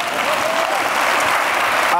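An audience at a talk on atheism bursts into loud, dense applause, continuous and close for the whole stretch, with voices mixed into the clapping.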